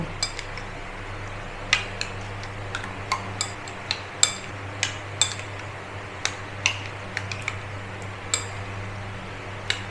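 An egg is beaten into chicken pieces in a bowl for smoky popcorn chicken, with a steady run of light, sharp clinks of utensil against the bowl, close and alone over a low background hum.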